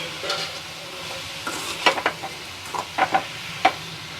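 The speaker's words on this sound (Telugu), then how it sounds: "ఊరికే కలుపుతూ ఉండాలి." A spoon stirs carrot halwa with sugar and cardamom powder in a pan, making uneven scraping and clicking strokes over a soft sizzle.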